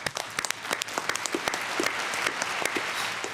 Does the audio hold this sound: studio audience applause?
yes